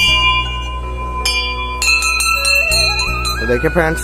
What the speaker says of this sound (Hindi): यहाँ पर देखिए कितना महादेव शंकर भगवान का घंटी भी लगा हुआ है। तो देखिए फ्रेंड्स चलिए इसको बजाते हैं।